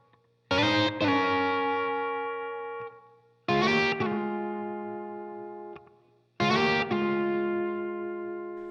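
Electric guitar plays bars five to eight of a standard 12-bar blues, with three loud sustained chord stabs that ring out and decay, with some distortion and chorus tone.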